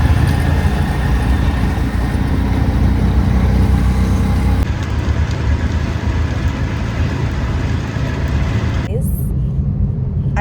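Inside a moving car on the road, a loud, steady low rumble of road and engine noise fills the cabin, with voices talking over it.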